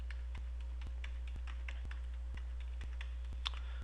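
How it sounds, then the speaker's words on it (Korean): Numbers being typed on the numeric keypad of a computer keyboard while entering data into an Excel spreadsheet, a quick run of light, crisp key clicks at a steady pace, close and faint over a low hum with no talk. "키보드의 오른쪽에 있는 숫자 키를 이용하시면 좀 더 효율적으로 입력이"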